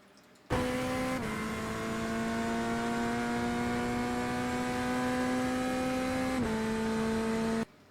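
A GT3 race car engine in the iRacing simulator at Portland International Raceway drones steadily under power, a sustained tonal roar that shifts pitch near the start and again near the end, loud and alone.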